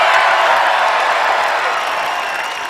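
Seattle Kraken fans cheering and applauding at an expansion draft event, a dense, steady roar of crowd noise that fades slightly toward the end.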